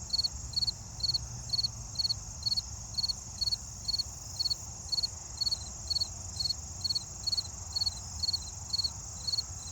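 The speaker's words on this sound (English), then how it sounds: "Oh, there's some fall field crickets kind of close here." A nearby fall field cricket chirps in short, regular pulsed bursts, repeating evenly over a constant insect hum in quiet surroundings.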